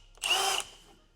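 A power drill gives a short, loud whir of about half a second as it starts a pilot hole in the frame of a 2018–2025 Jeep JL for rock sliders, then cuts off.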